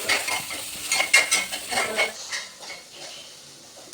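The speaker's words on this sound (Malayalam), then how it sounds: "സവാള ഒന്ന് ചൂടായതിനു ശേഷം മാത്രം നമുക്ക് മുളകിടാൻ പറ്റുള്ളൂ സവാള നന്നായി ചൂടായി" Onions sizzle in a hot pan while a utensil stirs them, with scraping and clinking scrapes at an irregular rhythm up close, then a quieter steady frying hiss.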